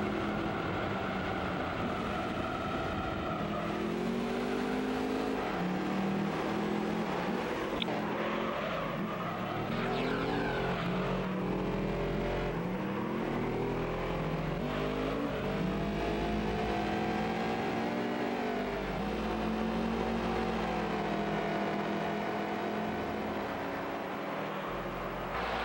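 A TVR Griffith roadster races in Gran Turismo 3 at Grand Valley with a constant engine drone. The engine pitch climbs and drops through gear changes, and bits of tire squeal come through in a long, steady, close-up run with no voices.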